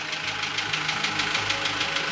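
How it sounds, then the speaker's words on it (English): A sailboat's engine runs with a steady, loud mechanical drone and a fast knocking pulse, continuous from start to end, with no voices. "Don't start the engine. Turn the engine off."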